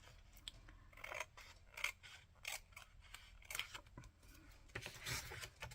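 Scissors snip through paper cards for a Christmas flip-flop mini album, a series of close, crisp cuts at an uneven pace with soft rasping paper sounds between them and no speech.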